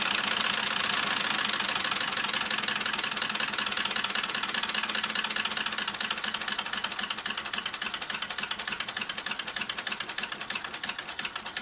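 A Mamod SP7 model steam engine runs steadily at full power, a continuous busy mechanical chatter with fast rhythmic knocking and hiss, close and loud throughout with no talk.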